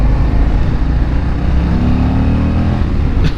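A 2025 Harley-Davidson CVO Street Glide with a 121 cubic inch engine accelerating hard, its loud, dense engine roar rising steadily in pitch as it pulls, close and continuous with no talk over it.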